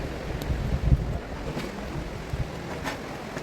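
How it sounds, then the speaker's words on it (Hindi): The Kosi river flows past its bank at Kakdighat, heard as a steady broadband wash of water mixed with gusty wind buffeting the microphone, with no voices. "आप देखो सामने कोसी नदी बह रही है"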